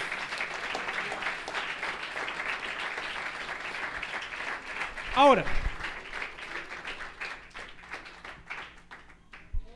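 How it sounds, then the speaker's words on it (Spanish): A church congregation claps during a sermon, the applause strongest early and tapering off, with a loud burst midway before a preacher's voice takes over and the clapping fades to scattered taps. "Un aplauso al Señor Jesucristo"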